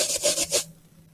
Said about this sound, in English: I'm going to rub the balloon.